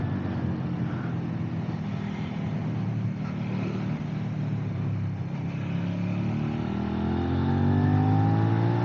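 A Suzuki SV 650 motorcycle engine running close by, idling roughly and then revving up so its pitch climbs toward the end, loud and steady throughout.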